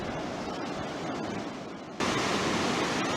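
Hell's Roaring Creek roars in a dense, steady wall of rushing whitewater, heard close and loud, with the level jumping up partway through.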